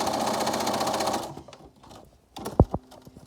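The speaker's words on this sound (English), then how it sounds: "So now you're going to sew all 4 of those darts." A sewing machine stitches fabric darts for a medical mask, running fast and rhythmic for over a second, then stopping, followed by a few quiet handling sounds and two sharp knocks.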